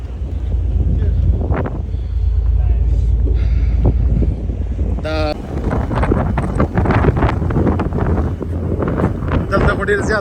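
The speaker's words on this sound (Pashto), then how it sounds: "دلته خو ډېر زیات تیز باد هم دی" Strong wind buffets the microphone on the deck of a ferry headed to Victoria, British Columbia, roaring steadily and loudly. Low rumble fills the background, and people talk faintly over it.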